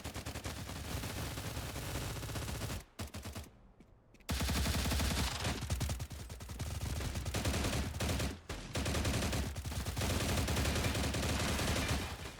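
Rapid, dense gunfire fills the scene in the shooter game Stalcraft: X, including shotgun blasts, loud and nearly continuous with a short lull midway.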